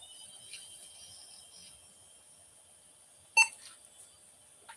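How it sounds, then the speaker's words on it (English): A single short electronic beep from a retro Daewoo PC at power-on self-test, sounding once near the end against a quiet background hiss, clear and close. "Okay, we got a beep."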